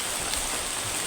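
Steady rain pours in a video game, a dense even hiss of falling water with no talk over it.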